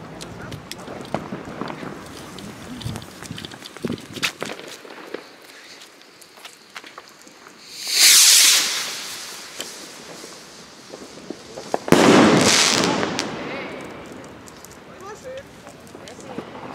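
Weco Viel Glück firework rockets launch outdoors, two loud rushing whooshes a few seconds apart over background noise, with people talking around them.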